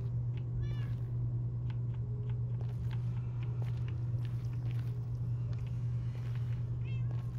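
A cat in a video game gives a few short meows over a constant low electrical hum and faint background game noise, heard without talk.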